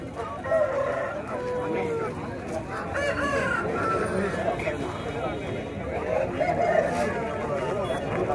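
A rooster crows at a busy chicken market, with clucking fowl and several calls rising over the crowd noise, while someone talks close by throughout.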